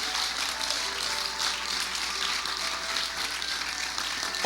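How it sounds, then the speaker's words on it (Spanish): A church congregation claps together during a sermon, an even, continuous wash of many hands heard at moderate distance without pauses. "Dele un aplauso al Señor, se lo quiere dar."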